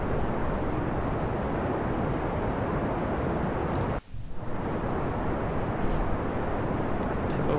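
Rocket engine roaring at full throttle in Kerbal Space Program: a continuous loud, broadband rumble that briefly dips near the middle and then resumes at the same strength, with no speech.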